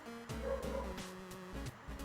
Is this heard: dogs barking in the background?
yes